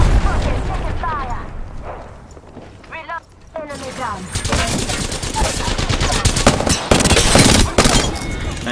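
Apex Legends gunfire, automatic bursts and sharp cracks building into heavy sustained firing in the second half, loud and close, with in-game voice callouts and chatter over the shooting.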